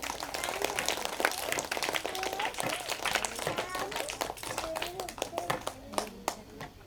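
Audience applause for the chief guest at a school cultural program, a steady spatter of many hands clapping throughout, with voices murmuring underneath.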